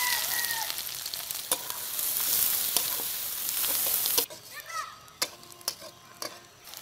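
Chopped onion, bay leaf, dried chili and cumin frying in mustard oil at a street stall, a steady close sizzle broken by sharp clicks of stirring, quieter after about four seconds.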